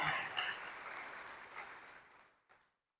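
Audience applause for Mary Madison of the Iowa Legislature, District 31, at a Tina Talks event: a steady, moderately distant round of clapping that thins out and stops, with a last few claps at the end.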